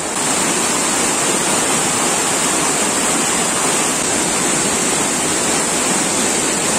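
Loud, steady rushing of a flowing river, a dense continuous roar with no breaks or voices.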